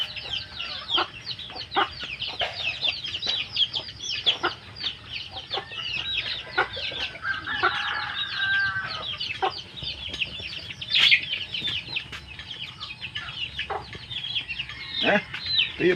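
Hybrid chicks and hens clucking in a farm setting, a dense stream of repeated short peeps and clucks, some near and loud, with a brief louder squawk midway.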